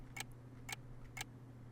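A ticking clock prop in Garry's Mod, three crisp evenly spaced ticks about half a second apart, faint over a low steady hum.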